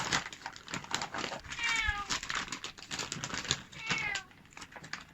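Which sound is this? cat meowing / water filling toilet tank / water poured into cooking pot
cat meowing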